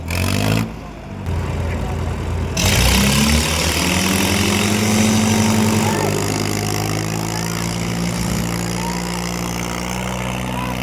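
Tractors at a tug-of-war contest, a Sonalika and a John Deere, idling and revving nearby with a deep, steady engine drone and rising pitch, while voices talk over the rumble.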